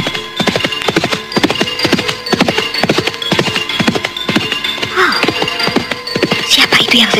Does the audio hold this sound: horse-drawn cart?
yes